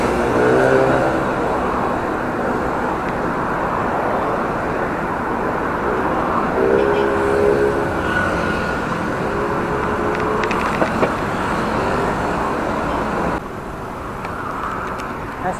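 Steady road traffic rumbles near Santolan MRT station in heavy congestion, a continuous wash of engines and tyres with a few passing horn-like tones, close and fairly loud throughout.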